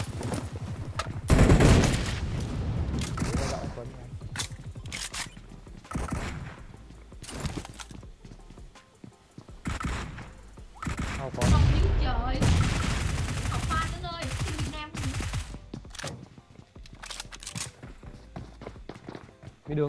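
Rapid bursts of gunfire crackle in a ranked PUBG Mobile match, with sharp repeated shots and volleys spread across the clip, mixed with footsteps and players talking over the action.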